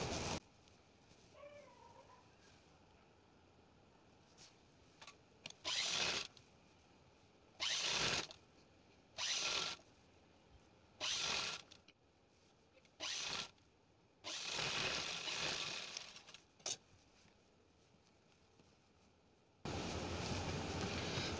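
Sewing machine stitching a princess cut blouse, several separate whirring runs of a few seconds each with quiet pauses between, close by, ending in a longer steady run, and a cat meows faintly near the start.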